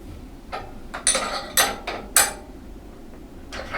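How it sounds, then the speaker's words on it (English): Several sharp metallic clanks and knocks ring out as a spanner holds and nips a drawbar tight on a hit-and-miss stationary engine, spaced irregularly with quiet gaps between. "wind the drawbar in, hold it with a spanner,"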